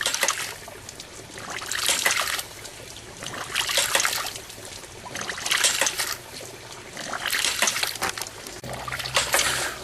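Water trickles and splashes steadily out of a ram pump, rising and falling in regular surges about every two seconds, close and continuous with no talk.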